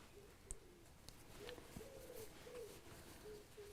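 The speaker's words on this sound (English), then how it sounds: "You hear the pigeons on the roof." Pigeons cooing on a roof, soft repeated low coos spaced across a few seconds, faint and distant against a quiet background hiss with a couple of light clicks.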